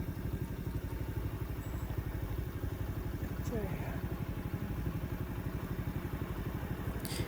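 A motorcycle engine idles with a steady, even chug on a road after braking in Pakistan, close and continuous with light background clatter.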